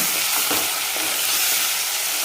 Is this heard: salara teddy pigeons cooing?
no